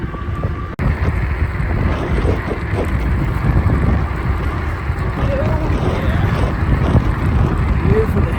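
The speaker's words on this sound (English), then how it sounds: "you get out here and the wind's blowing, a lot harder than what they say" Strong wind blowing during a ride on an Ecotric fat tire e-bike, a steady loud roar of wind buffeting the microphone throughout, with a brief dropout near the start.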